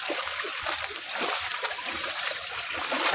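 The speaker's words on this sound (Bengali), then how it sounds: "দেখেছো কত জল জমে গেছে পুরো, দেখো আমরা প্রতিবার জল এলে এখানে এরকম মজা করি।" Feet or wheels splash through rainwater flooded on a street on a rainy day, a continuous hissing, sloshing wash of water heard close by with no talk.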